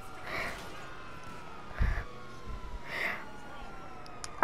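Police van siren in the game GTA V, with a few wailing swells that rise and fall faintly in the background, a short thump partway through and a sharp click at the end.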